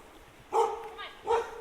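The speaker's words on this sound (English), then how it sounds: "And there's a dog." A dog on a trail near Maroon Bells, Colorado, gives two sharp, fairly close barks about three-quarters of a second apart against a quiet outdoor background.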